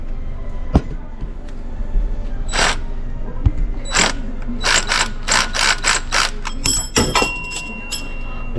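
Ratchet loosening the timing belt tensioner on a 2003 Kia Sorento during timing belt replacement: a series of quick mechanical clicking bursts, close and fairly loud, speeding into rapid clicks near the end.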